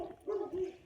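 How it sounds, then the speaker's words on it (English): Dogs bark in the background, a couple of short mid-pitched barks or yips in under a second, moderately faint and alone without talk. "excuse the dogs in the background"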